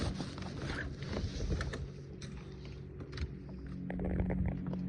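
A sailboat just off anchor and under sail moves downwind, giving a soft, steady rush of water and wind against the hull with faint creaks and knocks, fairly quiet and without voices.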